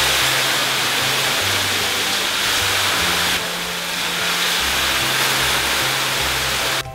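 Water thrown onto hot stones in a Finnish sauna sends up a loud, steady hiss of steam that fills the whole stretch, close and unbroken, with a faint low hum underneath.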